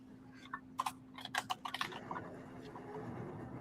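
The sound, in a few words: typing on a Bluetooth computer keyboard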